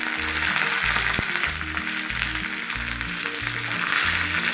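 Small onion, dried red chilli and curry leaves frying in hot oil for a green peas curry, giving a close, steady, loud sizzle and crackle with a faint rhythmic background hum and no talk.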